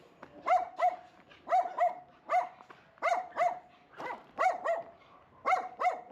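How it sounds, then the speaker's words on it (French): Several agitated dogs bark in a street in Albania, sharp repeated barks in quick clusters at close range, overlapping with one another and continuing steadily with no talk. "Apparemment, cette rue-là, il y a beaucoup de chiens mécontents."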